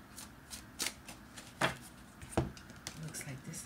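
Tarot cards are shuffled and drawn by hand, giving a series of short papery riffles and soft slaps spaced irregularly, close and fairly quiet, with faint speech-like murmuring underneath.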